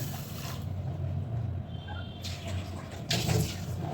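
Water, two cups' worth, pours into a pot at home in an even, moderately loud splashing stream that pauses and resumes in short bursts.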